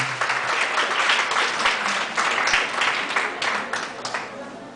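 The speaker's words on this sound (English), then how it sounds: "A round of applause, please." Audience applause at the 2012 NAMCYA Northern Luzon Cluster music competition: dense, sustained clapping from a large crowd, steady and fairly loud, fading slightly at the end.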